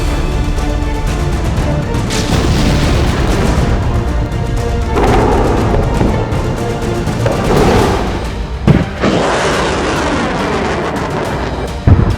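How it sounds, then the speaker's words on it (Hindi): Missiles launched from Iran roar and boom in a loud, continuous rumble, with deep blasts and rushing launch noise swelling several times, no speech. "एक के बाद एक मिसाइलें ईरान की ओर से जब लॉन्च की गई तो उसी का ये वीडियो ईरान की ओर से जारी किया गया है"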